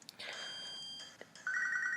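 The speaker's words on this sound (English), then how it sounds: "Oh, we've got Professor Elm ringing us." A phone call rings in Pokemon Storm Silver, with bright electronic beeping tones that repeat in short bursts before a sustained ringing chime at the end.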